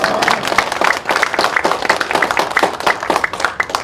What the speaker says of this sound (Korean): 우리 하나님께 먼저 감사의 영광의 박수를 올려드리겠습니다